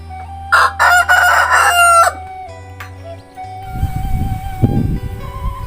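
A big village rooster crows loudly and close by in a rural hillside setting, one long cock-a-doodle-doo, then other farm sounds and a low rumble follow.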